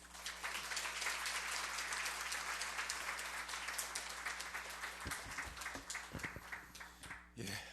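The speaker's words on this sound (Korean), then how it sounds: "우리 환영의 박수로 우리 교수님 맞이해 주시고" A Korean congregation at a Sunday service in an Edmonton church applauds to welcome a professor to the pulpit. Dense, sustained clapping thins out and fades toward the end, where a few low sounds break through.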